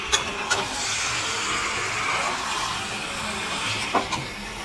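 Meat and potatoes sautéing together in a hot pan with chili and salt, giving a steady close-up sizzle and hiss with a few brief sharp crackles throughout.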